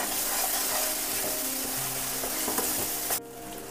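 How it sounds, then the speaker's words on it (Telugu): Onions frying with ginger-garlic paste in hot oil, stirred in a pan: a loud, steady close-up sizzle with soft scraping that cuts off abruptly near the end. "ఆనియన్ ఫ్రై అయిన తర్వాత ఒక స్పూను అల్లం వెల్లుల్లి పేస్ట్ వేసేసుకొని ఇది బాగా కలుపుకొని"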